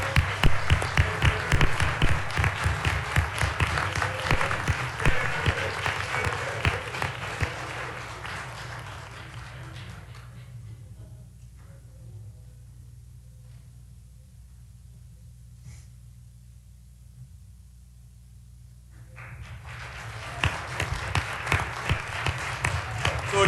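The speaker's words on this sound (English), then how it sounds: "how about another big round of applause for all this year's retirees?" A meeting audience applauds this year's retirees with a loud burst of clapping that fades to near quiet midway, then swells again into a second vigorous round near the end.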